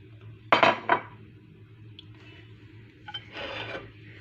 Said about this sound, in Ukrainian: Кастрюлі з кипяченою водою ми викладаємо картоплю.